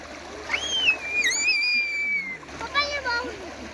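Children splash in a clear, cold village river, with bursts of water splatter running under excited high-pitched voices that shout and talk throughout.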